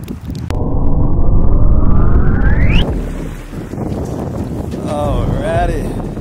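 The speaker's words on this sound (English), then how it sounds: "Hear that engine. Can we hear the engine?" Boat engine rising in pitch as it revs up, then dropping to a rough rumble, with heavy wind buffeting the microphone and water noise around it, alongside voices.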